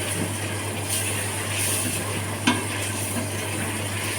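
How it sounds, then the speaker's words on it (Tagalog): Pink pasta sauce with chicken simmering at a boil in a pan, stirred steadily with a low bubbling sizzle and a steady hum behind it, plus a single brief clink partway through; no talking. "Kumulo na, oh, kumulo na. Haluin na rin ako."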